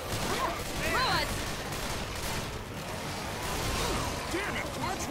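Gunfire in Left 4 Dead 2: dense, chaotic shots and bursts with crashes and whooshes, loud and continuous, mixed with game noise and shouting voices throughout.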